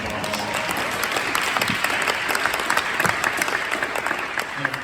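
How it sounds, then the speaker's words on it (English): Town hall audience on the e-bike crisis applauding a New York City vehicle safety group, loud sustained clapping with scattered cheers and murmuring throughout. "Give yourself another round of applause."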